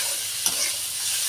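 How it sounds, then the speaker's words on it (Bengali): Sliced bitter gourd sizzles steadily in a hot pan while being stirred, a constant bright hiss with a brief clack of the utensil, close and alone without any voices. "একটু নাড়াচাড়া করে ভালো করে ভেজে নেব।"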